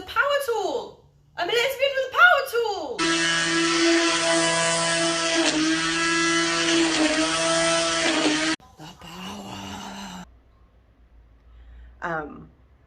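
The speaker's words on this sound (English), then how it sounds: "It's a power tool!" A power tool whirs loudly and steadily for several seconds, sandwiched between bursts of excited talking.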